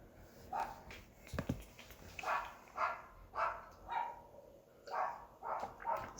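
A small dog barks repeatedly in short, evenly spaced yaps at moderate distance, roughly a dozen barks in a steady rhythm with no other sounds alongside.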